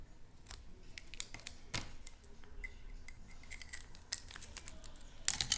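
Scissors make small snips along the edge of paper, scattered crisp cuts close by over a quiet background, with a louder cluster of snips near the end and no talking.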